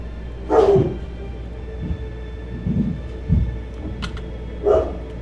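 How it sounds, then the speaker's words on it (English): Dog barking indoors, several separate barks and shorter woofs spaced over a few seconds, fairly close and moderately loud against a quiet background. "Excuse the dog."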